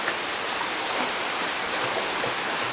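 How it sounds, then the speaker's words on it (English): Heavy rain falls in a dense, even hiss with no breaks, loud and enveloping throughout. "it's raining fairly hard, but my house has been turned into a lake"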